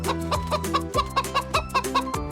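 Chickens cluck in a quick, rhythmic series of loud, close calls, one after another with no talking over them.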